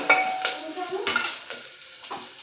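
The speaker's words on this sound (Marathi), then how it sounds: "कांदा चांगला हवा परतून घ्यायचा आहे आपल्याला तेलात." Onion sautéing in a little oil in a pan, heard as several distinct scraping and clinking stirs of a utensil against the pan over a soft sizzle, close by.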